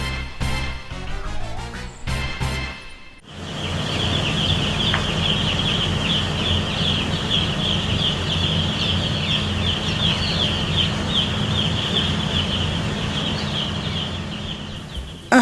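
Laying hens on a large poultry farm in Nigeria fill the air with a dense, continuous din of clucking that holds steady and loud for many seconds, after a short stretch of other noise at the start.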